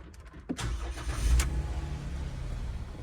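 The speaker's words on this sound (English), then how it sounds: "I'm going to start the engine up." A Jeep Wrangler JK with an LR solenoid circuit transmission fault cranks briefly and catches, then settles into a steady close idle, with no talking.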